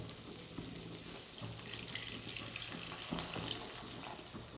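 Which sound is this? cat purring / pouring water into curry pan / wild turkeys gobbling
pouring water into curry pan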